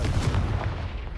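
Confringo fire spell blast from Hogwarts Legacy, a deep booming explosive burst with sustained low rumble filling the short moment, loud and close.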